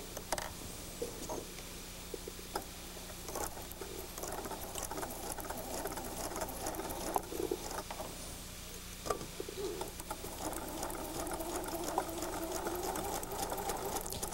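Sewing machine stitching over a fabric seam on a log cabin quilt block, a steady, fairly quiet rapid patter running the whole time with a few brief pauses and small clicks.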